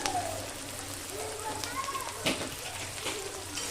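Chopped brinjal sizzling in a wok with lightly fried onions, a soft, even crackle like light rain, with a single sharp clatter partway through.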